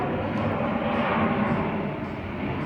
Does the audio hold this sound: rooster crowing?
no